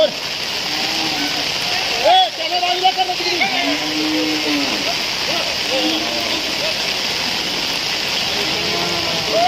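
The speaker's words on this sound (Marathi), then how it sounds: "रात्रीपासूनच मुसळधार पाऊस पडतो" Heavy monsoon rain pours steadily in Chiplun during flooding, a dense, constant hiss while voices talk over it.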